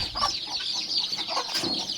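Chickens and young chicks cluck and chirp steadily in coops set at the edge of a village farm, with close, busy peeping running throughout.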